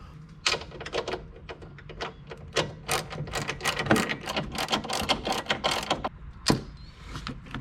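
A wrench working on the strut tower nuts of a first-generation car during a lowering-spring and shock install: a long run of rapid metallic ratcheting clicks, close and busy, with a louder clank near the end.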